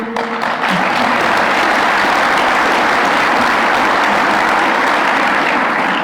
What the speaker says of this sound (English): that applause was led single-handedly by Randy Zook